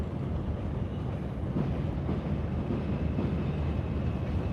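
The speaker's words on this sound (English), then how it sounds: "Wow, that's a long train." A long train rumbles past at night in New York City, a steady, loud, low roar that holds without a break for the whole stretch.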